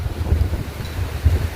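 Strong gusty wind in stormy rain over Krishna district, roaring into the microphone in loud, buffeting surges with no speech.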